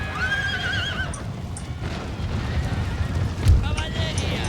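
Horses neigh and whinny among cavalry in the strategy game Empire: Total War, with Cossack riders carrying rifles; two rising whinnies come early, over a dense battle rumble with a thud near the end.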